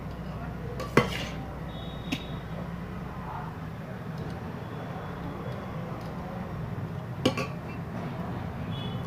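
Rice is stirred together with egg and potato masala in a pot, giving a quiet background hiss broken by a few distinct metal spoon clinks against the pot.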